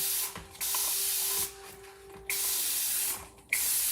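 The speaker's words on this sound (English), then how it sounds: "I'm gonna spray it. Let's get our board eraser wet." A spray bottle mists water onto a chalkboard eraser in three steady bursts of close hissing spray, each lasting about a second, with brief pauses between them.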